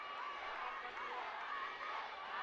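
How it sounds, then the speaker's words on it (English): Crowd at an IBA Women's World Boxing Championship quarterfinal bout, a dense, steady roar of many voices chanting and shouting in a large arena, continuous and moderately loud. "The Raksat and Nikhat chants, giving the crowds a tough competition"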